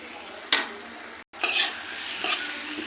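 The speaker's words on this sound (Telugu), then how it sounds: "ఇప్పుడు వంకాయ ముక్కలను ఇలా కలుపుతూ మగ్గనివ్వాలి." Brinjal pieces with salt and turmeric stirred in a pan, a few close scraping stir strokes over a soft steady sizzle, broken by a short silent gap.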